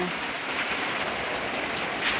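Light, fine rain falls steadily outdoors, a soft continuous hiss of drops with no other clear sounds, close and even throughout.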